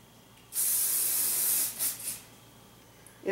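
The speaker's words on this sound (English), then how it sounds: "Then you're just gonna wanna spray it into place" An aerosol hairspray finisher sprays onto styled side-swept bangs: one loud, close hissing burst of about a second, then two quick shorter puffs, with no voices.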